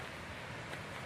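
Honey Run Waterfall near Mt. Vernon, Ohio, rushing in the background near a small parking lot, a steady, broad hiss of falling water heard briefly and without any voices.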